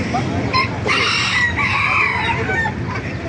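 Several fighting roosters crow in overlapping calls amid steady clucking at the Baliuag animal market in the Philippines, fairly near and loud, with no talking.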